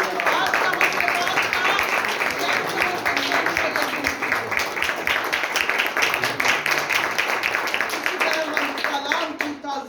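Loud, dense applause from a church congregation, many hands clapping steadily for about ten seconds before it begins to thin at the end.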